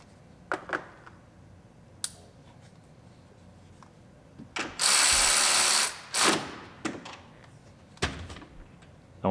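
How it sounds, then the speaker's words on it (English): Ratchet pawl clicking in short bursts with one long steady run midway, close and clear, as ground wires are bolted back in on a 2007 GMC Sierra pickup during heater core replacement; no talking. "So we'll bolt our ground wires back in."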